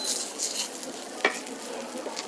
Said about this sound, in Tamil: நான் முருங்கைக்கீரை அப்படியே போட்டு வதக்குறேன்